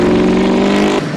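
A 2010 Ford Mustang, rear-wheel drive, powers loudly along a gravel road with a steady engine drone close by, then the pitch drops off abruptly near the end.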